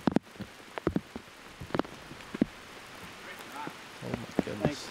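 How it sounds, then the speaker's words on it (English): Heavy rain pours outdoors on a disc golf course beside a cornfield, a steady hiss with sharp drops striking nearby surfaces and a metal catch basket, while people talk faintly and intermittently over it. "And this rain is really coming down."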